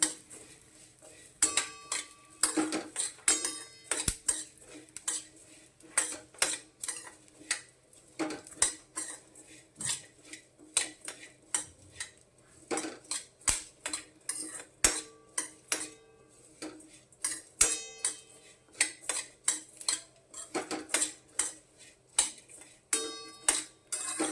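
Dry barley grains being stirred and roasted in a pan, a steady run of sharp scraping and clinking strokes as the spoon or spatula works the grain against the metal, close and fairly quiet with no voices.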